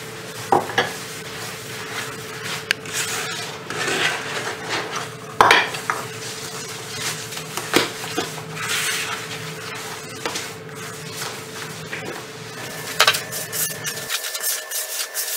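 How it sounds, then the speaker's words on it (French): A spoon stirs semolina and yeast together in a bowl while making coconut ghribya, giving steady scraping and rubbing with scattered light clinks against the bowl, close and continuous, with no talking. "Je mélange ma levure à la semoule"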